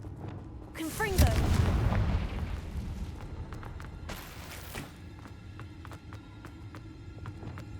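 A Confringo fire spell explodes in Hogwarts Legacy with a deep, rolling boom that swells and slowly decays over low game ambience, with scattered small crackles and a voice speaking.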